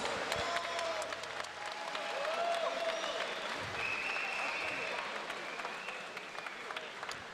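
Audience applause greeting two MMA fighters at an international GFC 20 tournament in Tbilisi, a steady wash of clapping that fills the hall throughout, with faint background sounds layered over it.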